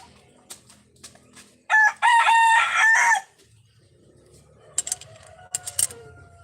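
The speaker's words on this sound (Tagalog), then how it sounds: "Sawayin mo yung manok na yun." A rooster crows once loudly and nearby in a single drawn-out call, with softer clucks and scattered sharp clicks from the fowl before and after.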